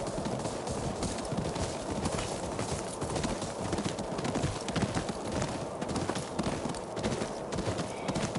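Horse hooves clip-clopping in a fast, continuous stream of dense hoofbeats, loud and close, with no voices over them.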